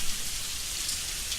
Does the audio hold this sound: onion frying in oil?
no